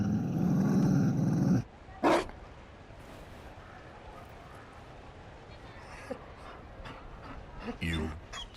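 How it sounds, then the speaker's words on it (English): A Mabari war dog in Dragon Age: Inquisition gives a short bark and growl, loud and close, set among game sounds and talking voices. "You found a dog?"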